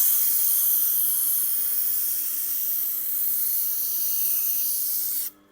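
A Dexter chef's knife is drawn across a diamond sharpening plate, giving a steady close hiss and rasp of steel on abrasive that runs evenly and then stops abruptly near the end.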